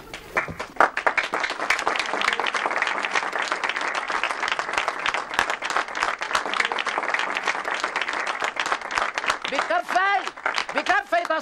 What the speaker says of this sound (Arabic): بكفي بكفي تصفيق، شكرا.